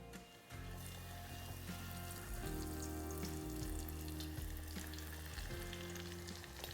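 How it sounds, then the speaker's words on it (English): Shrimp sizzling and bubbling steadily in hot canola oil, a dense continuous crackle of frying heard close up with no talk. "It's time to start dropping these in."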